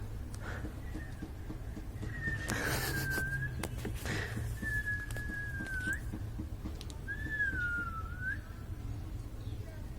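A metal milk can gives off thin, wavering whistle tones, three drawn-out pitched notes with small bends at the end, fairly faint over a low steady hum, with a couple of brief clattering bumps between.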